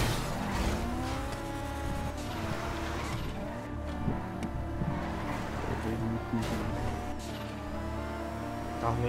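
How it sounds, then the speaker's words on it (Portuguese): A car drives in the video game GTA V with a continuous, loud engine drone that shifts in pitch, broken by tire squeals and skids, all over a dense mix of game sound. "O carro faz barulho."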